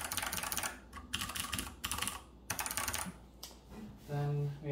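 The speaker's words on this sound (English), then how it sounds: "Just trying to type, now is the time for all good men to come to the aid of the party." Bursts of fast typing on a mechanical keyboard tuned for deep, thocky keystrokes, dense clacking in several short runs separated by pauses, close and clear, ending with a brief tonal sound.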